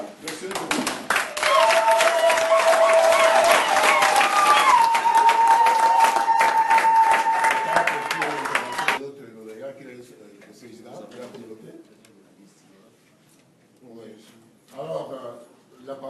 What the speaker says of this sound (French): je vous demande de vous lever et d'acclamer le nouveau président, M. Denis.